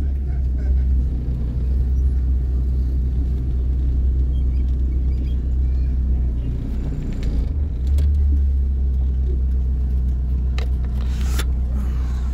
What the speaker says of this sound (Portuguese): trânsito carregado aqui